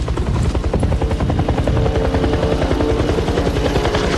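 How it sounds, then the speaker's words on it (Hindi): A helicopter flies nearby, its rotor blades thudding in a fast, steady chop with an engine whine underneath, loud and continuous throughout without talk. "देखो वो हेलीकॉप्टर है।"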